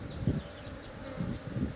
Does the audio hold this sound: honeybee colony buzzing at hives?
yes